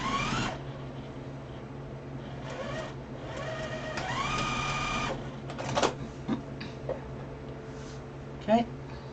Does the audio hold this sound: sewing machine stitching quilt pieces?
yes